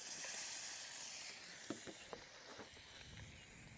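Food sizzling in a pan while cooking Beef Wellington at a campsite, a steady hiss with a few soft pops and crackles, moderately close and fading slightly, with no talking.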